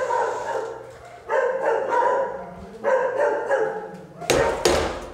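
A dog barks in repeated loud bursts nearby, several separate barks spread across the moment, with a sharp thump or knock near the end.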